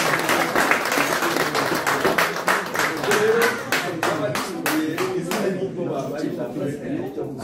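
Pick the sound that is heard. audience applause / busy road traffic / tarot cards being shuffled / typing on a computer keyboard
audience applause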